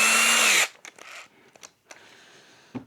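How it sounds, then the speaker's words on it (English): A power drill boring a 12mm hole for wall plugs whines loudly and steadily for about half a second, then cuts off, followed by quiet scattered clicks and handling noises. "I need to drill 12mm for the plugs."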